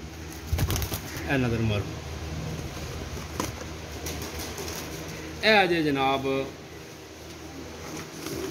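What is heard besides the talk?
pigeons cooing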